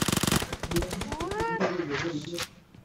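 Rapid automatic gunfire from an enemy player in PUBG Mobile, a dense burst of shots at the start with further shots continuing under someone talking excitedly.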